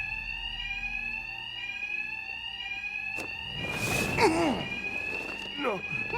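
A Two-Face robbery alarm in Batman: Arkham Knight rings continuously at steady loudness throughout, while voices and a sharp impact clatter sound over it partway through.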